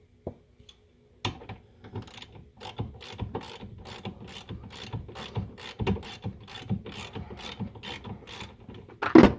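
A hand ratchet clicks in quick rapid runs while loosening a bolt on the suspension of an MK3 Toyota Supra during a wheel bearing job, close and fairly quiet, with no talking.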